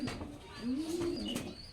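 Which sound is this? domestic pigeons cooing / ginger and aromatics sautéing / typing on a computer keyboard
domestic pigeons cooing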